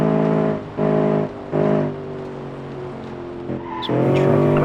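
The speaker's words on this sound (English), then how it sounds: "driving across dirt is one way to bleed off some speed. And spinning around in circles is another." A car in the BeamNG driving game skids and spins on dirt, giving repeated loud tire squeals in three or four bursts over a steady engine drone, ending in a sustained screech.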